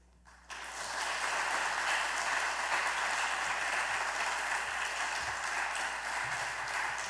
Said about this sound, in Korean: 우리 나오실 때에 큰 환영의 박수로